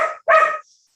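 A dog gives two sharp, close barks in quick succession, the second one louder and longer, during a municipal advisory board meeting.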